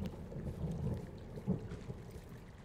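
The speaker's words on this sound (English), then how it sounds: "Hey, I heard some thunder." Low thunder rumbles through a stormy outdoor scene in the video game Firewatch. It is a faint, distant roll with one slightly stronger swell midway and no voices.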